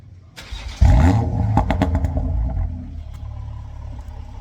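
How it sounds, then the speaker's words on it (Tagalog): A Toyota GR Supra fitted with an HKS dual muffler starts up close by, a brief cranking followed by a sudden deep bark that settles into a loud, steady rumbling idle. "we start the engine so that we can hear how it sounds like"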